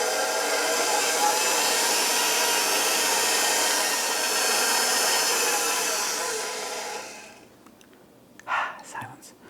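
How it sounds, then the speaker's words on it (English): A stand mixer runs on medium-low while mixing currant bun dough, giving a steady, close, loud motor whir for about seven seconds before it cuts off, followed by a couple of brief knocks. "we're going to start the mixer on medium-low"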